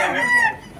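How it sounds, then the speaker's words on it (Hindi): A rooster crows once, loud and close, at a busy village livestock market where chickens, goats, sheep and ducks are sold, the call trailing off after about half a second. "यहाँ बहुत सारा मुर्गा है दोस्तों,"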